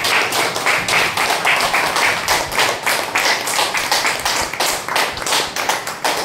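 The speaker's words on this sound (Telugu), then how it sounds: "ప్రణతికి మనమందరం చప్పట్ల ద్వారా పుట్టినరోజు శుభాకాంక్షలు తెలియజేస్తాం." Steady, dense clapping from a crowd gathered to celebrate Pranathi's birthday, sustained and fairly loud for several seconds with no voices over it.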